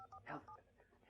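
A telephone keypad in the game Alan Wake beeps out a quick run of DTMF tones, a few short, faint electronic blips over quiet background murmur.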